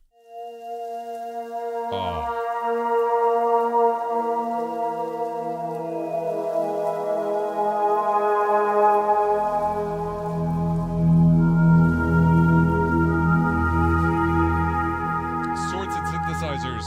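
Synth pad preset Future Rainy Street 2 from the Lunaris 2 library, a sustained layered chord that swells in slowly after a brief opening blip and gains a deep low rumble halfway through, with a short spoken exclamation.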